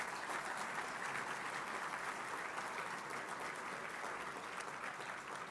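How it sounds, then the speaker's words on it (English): A dinner crowd at a military fundraising event gives a steady round of applause, a dense wash of many hands clapping at an even level with no break and no voices on top. "let's have a round of applause for General Votel"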